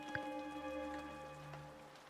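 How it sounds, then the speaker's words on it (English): Steady rain falls at night around a cabin in the video game Cabin Fever, a soft, even patter of raindrops with a low wash beneath, heard alone and fairly faint. "All I could hear was wind and rain."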